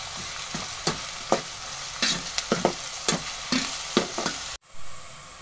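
Garlic paste fries in a pan for a mutton liver masala curry, with a steady close sizzle broken by repeated scraping stirs, then a sudden drop to near silence just before the end.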